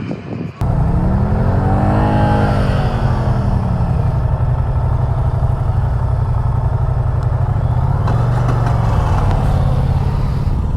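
A Moto Guzzi V7 Stone motorcycle ridden on the road, its engine roaring loud and close with a rising and falling rev, then a fresh surge of throttle near the end, with wind rumble throughout.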